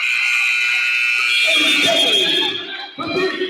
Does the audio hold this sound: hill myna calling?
no